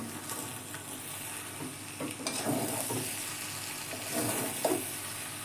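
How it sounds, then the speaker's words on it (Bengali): Boiled dried peas being stir-fried in a kadai scrape and rustle under a spoon with a soft, continuous sizzle. Irregular stirring strokes rise now and then, and the sound stays close with no voices. "এবার কড়াইটা দিয়ে একটু কষিয়ে নেব"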